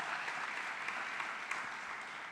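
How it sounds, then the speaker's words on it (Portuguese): A church congregation claps together in a dense, steady wash of applause that fills the room evenly for a couple of seconds, with no voices rising above it. "Dá um aplauso ao Senhor."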